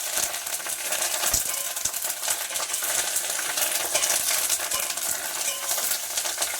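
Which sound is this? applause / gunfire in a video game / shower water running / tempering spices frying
tempering spices frying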